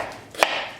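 A knife slices through produce on a cutting board, a single crisp chop standing out against a soft, quiet background.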